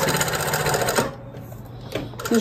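A sewing machine stitches with a rapid, steady mechanical clicking and whirring, then slows and stops, leaving faint clicks. The mechanism sounds close and fairly quiet.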